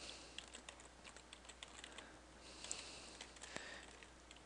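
Light, quick keystrokes on a computer keyboard while entering Java code, a steady patter of soft clicks at close range with a few louder taps, no voices.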